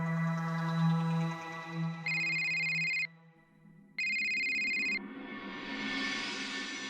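A phone call to a mother rings out as two bright, one-second electronic ring bursts separated by a short pause, clear and fairly close in a quiet room.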